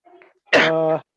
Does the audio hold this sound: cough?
yes